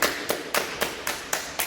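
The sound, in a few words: people clapping hands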